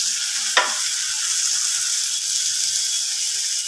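Onion, chili, tomato and turmeric frying in oil in a pan, giving a loud, steady hiss throughout, with one brief scrape of the spoon near the start.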